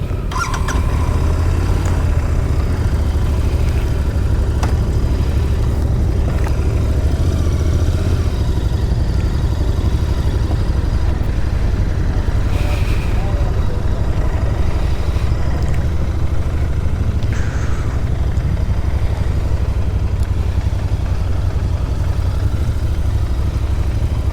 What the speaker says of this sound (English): Triumph 660. Lovely bike that is.